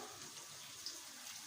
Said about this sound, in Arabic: هديها شويه كمان من الميه كده